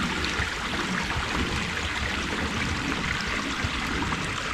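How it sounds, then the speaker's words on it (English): Water flows down a ravine toward a gorge in Zoar Valley, a steady broadband rush and trickle heard close and unbroken, with no voices over it. "we can see the water is flowing in this direction towards the gorge"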